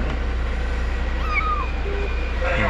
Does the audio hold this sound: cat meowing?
yes